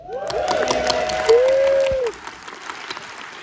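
A cinema audience at the Academy Museum applauds and cheers before a screening of Tron, with a few whistles rising over the clapping, which then tapers off into scattered claps.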